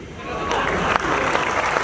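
Clapping from the audience at a Chhattisgarhi comedy poetry event, a brief, steady burst of crowd applause with a few louder individual claps.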